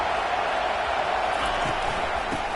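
A raucous crowd at a college football game with South Carolina's Gamecocks, a dense roar of distant cheering that holds steady for a couple of seconds.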